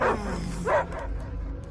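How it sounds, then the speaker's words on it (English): Cosmo, the dog character in the Guardians of the Galaxy video game, lets out two loud, close bow-wow barks over a low ambient rumble, followed by faint whimpering yips. "I hear only barking."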